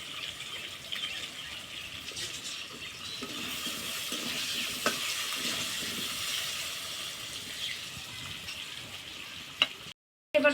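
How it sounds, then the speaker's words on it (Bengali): Cut potatoes fry in hot oil with turmeric, a steady close sizzling hiss that holds evenly for about ten seconds before briefly cutting out. "কেটে ধুয়ে রাখা আলু এই তেলেই ভেজে নিব।"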